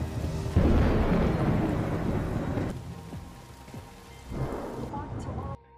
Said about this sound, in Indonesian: Di tengah cuaca hujan dan badai itu